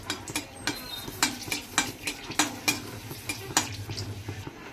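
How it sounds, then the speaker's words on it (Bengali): Dried red chillies fry in a pan with ginger and radhuni, a spoon scraping and stirring in quick repeated strokes over a soft sizzle, close and steady with no talking. "শুকনো লঙ্কা দিয়ে দিলাম, এটা নাড়াচাড়া করে"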